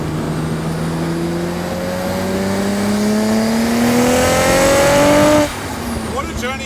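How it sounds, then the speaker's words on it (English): A Nissan GT-R accelerates hard around a race track, its engine note climbing through rising gears before cutting off abruptly, loud and close. "Just quite incredible how quick the car feels, how planted it feels on the track."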